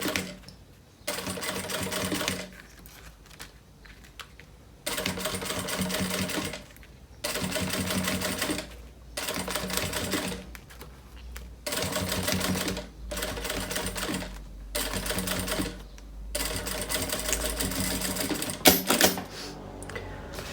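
A sewing machine topstitching a backpack runs in steady, rapid mechanical bursts of a few seconds each, separated by short pauses, close and loud throughout.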